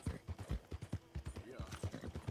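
Horse hooves clip-clop in Red Dead Redemption II, a steady rhythmic run of loud, close hoofbeats lasting the whole stretch, with a voice talking faintly underneath.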